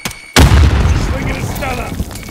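A grenade bursts in a Call of Duty: Modern Warfare firefight, one sudden loud boom right after a short silence, then a rumbling tail as a voice talks over it.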